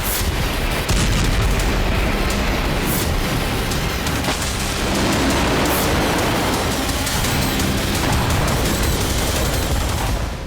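Continuous loud roaring rumble of distant explosions and blasts from bombing in Russia's Rostov region, dense and unbroken, with occasional sharper bangs standing out.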